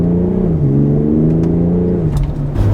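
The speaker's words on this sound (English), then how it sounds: "X3 and driving the first meters." A 2018 BMW X3 M40i with a 3-liter six-cylinder turbo engine drives in eco mode, its steady mid-pitched hum rising and shifting through gears, loud and close from inside the cabin.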